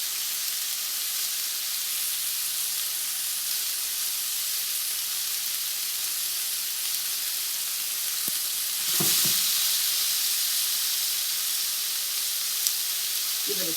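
Pork and red peppers frying in a pan over fairly high heat, a steady, even sizzle throughout with a brief clatter of stirring or shaking near the middle.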